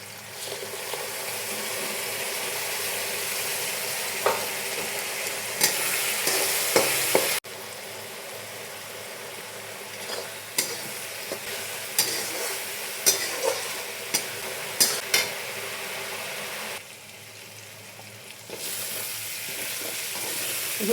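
Onion and garlic paste sizzling steadily in a pan for mutton curry, a continuous close frying hiss broken by repeated scrapes and clinks of a spatula stirring, with a brief louder burst midway.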